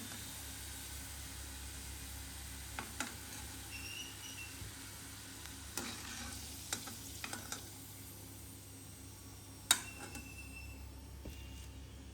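Potato patties fry in a pan of hot oil for a crispy Tamil-style recipe, giving a faint, steady hiss broken by scattered small pops and crackles.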